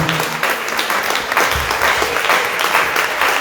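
A congregation applauds at a prayer meeting of repentance and healing, a dense, steady wash of clapping that keeps going at full strength throughout.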